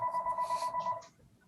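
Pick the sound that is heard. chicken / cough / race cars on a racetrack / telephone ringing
telephone ringing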